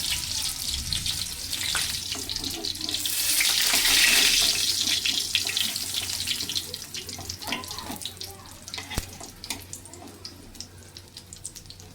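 Shrimp fritters wrapped in ash gourd leaves and coated with mustard-poppy seed paste fry in hot oil. A steady, hissing sizzle swells midway and then eases, with small crackles and pops scattered through it.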